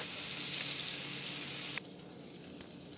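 Vegetables for a beef stew sizzle steadily in a hot pan, a loud continuous frying hiss that drops to a quieter sizzle partway through, with a few faint stirring clinks and no talk.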